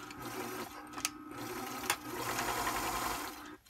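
A sewing machine runs steadily as it top stitches a folded fabric hem on a kitchen towel, a close, even whir broken by a few brief pauses and clicks.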